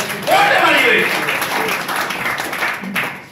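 An audience at a health talk on diabetes bursts into loud, sustained clapping that fills the room for several seconds, with voices mixed in beneath the applause.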